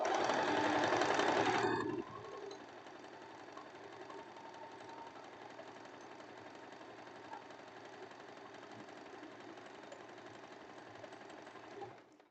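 A sewing machine stitches fabric for elastic-waist trousers, a loud rapid run of needle clatter for about two seconds, then a much quieter steady motor hum continuing alone until it stops.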